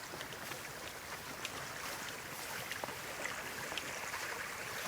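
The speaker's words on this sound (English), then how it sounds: "I definitely hear a river." River flowing in wilderness terrain, a steady broadband rushing wash heard from nearby, continuous and even, with a few faint ticks and no talking.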